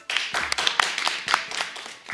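A talk show audience clapping, brief uneven bursts of hand claps, fairly close and moderately loud.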